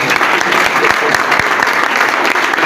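An audience at a church service claps steadily and loudly, with dense, sustained applause from a large crowd filling the whole moment.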